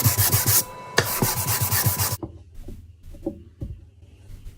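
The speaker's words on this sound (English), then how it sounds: "Here I'm doing my least favourite part of the job, which is sanding, and I'm sanding the fretboard radius." Hand sanding of a guitar fretboard to its radius, a rhythmic back-and-forth rubbing of abrasive on wood, loud and close at first, then stopping and leaving quieter scattered knocks and handling noise.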